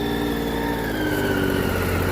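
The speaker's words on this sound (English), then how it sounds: "the revs are going up and down, so obviously something's wrong with it" Triumph Street Triple 675 R motorcycle (2012) idling with a suspected stator or rectifier fault, a steady close engine drone whose revs waver slightly up and down, with no voices.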